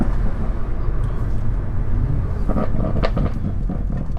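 BMW M140i with a BM3 Stage 1 tune pulling through first and second gear at light throttle, a steady low engine drone and road rumble filling the cabin, with no talking.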